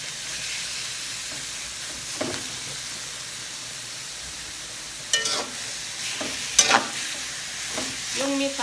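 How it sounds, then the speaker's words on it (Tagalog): Pork meat sizzles in a pan while being stirred for pansit palabok, a continuous frying hiss broken by scraping stirs, with louder bursts of sizzle toward the end. "add our meat. pork meat."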